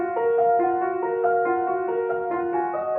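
Remade piano part for a song, playing alongside a first piano: clear sustained notes stepping through a repeating pattern at a steady tempo, with overlapping chords ringing alone.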